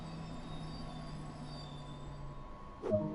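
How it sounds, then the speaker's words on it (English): Train Sim World 2 train braking to a stop on the Hamburg–Lübeck line: a soft, steady rumble with a faint tonal whine fading out, then a brief knock or hiss at the very end. "And this way we can bring this train to a stop actually."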